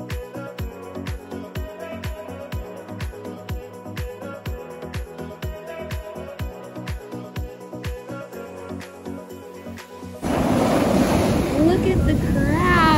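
Indian Ocean surf on a Mozambique beach rushes in as loud, continuous wind-blown noise over the last few seconds, after a long stretch of steadily pulsing, rhythmic beats.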